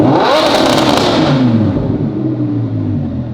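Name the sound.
car engine revving to high RPM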